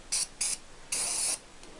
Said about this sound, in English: It's just a maintenance spray, cheap stuff.